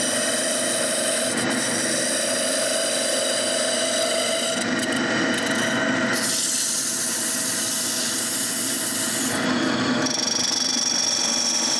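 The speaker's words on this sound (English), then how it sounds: "Now I can return to the lathe and finish the turning." A wooden tool handle with a ferrule spins on a lathe while a cutting tool shaves it, a steady loud whirring hiss with scraping, shifting in tone as the cut changes.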